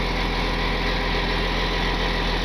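A 4x4 wrecker truck's engine runs just after a cold-morning start, a loud, steady, rumbling idle with constant vibration and no voices.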